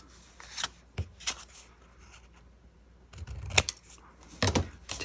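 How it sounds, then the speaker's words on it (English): Scissors cut paper along drawn lines for a tag envelope craft, giving a few short, close snips and rustles separated by quiet pauses. "So I'm just going to cut along the lines there."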